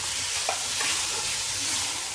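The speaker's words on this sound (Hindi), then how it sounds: "और हम इसको इसमें फ्राई करेंगे ऑयल में।" Marinated chicken fries in hot oil with ginger garlic powder, giving a loud, steady sizzle throughout, with a faint stirring scrape near the start.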